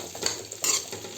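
Dry fruits frying in ghee, a soft close sizzle with a couple of brief stirring scrapes, quiet and without speech.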